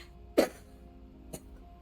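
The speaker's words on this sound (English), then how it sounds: "I just made a real cough from just now" A single sharp cough bursts out up close, followed about a second later by a softer short throat sound, against a quiet background.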